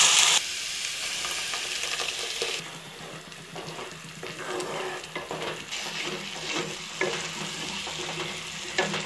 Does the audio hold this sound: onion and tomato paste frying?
yes